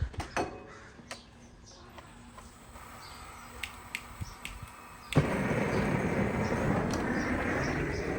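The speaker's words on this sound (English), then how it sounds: "Flamethrower, custom flamethrower." A custom flamethrower fires over charcoal and post oak, a sudden roaring whoosh that stays steady and loud after quieter moments of clicks and distant outdoor sounds.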